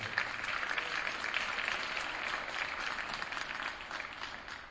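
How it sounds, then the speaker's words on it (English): Parents receiving applause at a high school winter sports awards ceremony, a sustained, moderate ripple of clapping from a seated audience that slowly tapers off. "So a round of applause, please, for you all for making it work"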